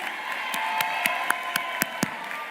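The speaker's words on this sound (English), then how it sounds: "Let's give a round of applause for Mr. K." A graduation ceremony crowd at Thurgood Marshall Academy applauds, a broad wash of clapping cut by sharp, evenly spaced louder claps, with scattered cheers and whoops throughout.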